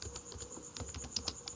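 Quick, light keystrokes on a computer keyboard while entering a pip install command in a Windows terminal, a close run of soft clicks over a faint steady high whine.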